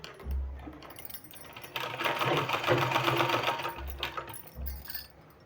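A sewing machine stitches a folded sleeve in one sustained run of rapid needle clatter, preceded and followed by low motor thumps and short pauses, close and moderately loud.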